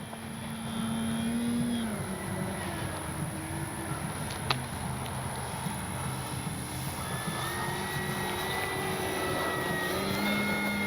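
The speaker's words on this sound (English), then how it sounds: "Man, what a beautiful airplane." An FMS 1400mm Pitts V2 RC airplane running on a 5200 mAh pack flies overhead, its electric motor a steady droning whine that rises and falls in pitch as it maneuvers, continuous and moderately distant throughout.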